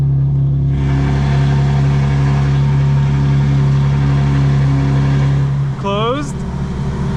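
A modified 2025 BMW M4 Competition engine runs with its exhaust valves fully open, heard from inside the car with the windows up. It gives a loud, steady, deep drone that ends with a short rising rev.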